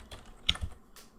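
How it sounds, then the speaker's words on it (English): A few quick, light keystrokes on a computer keyboard, sparse clicks with short pauses between them, close and quiet, with no talk. "we can just hit tab and type"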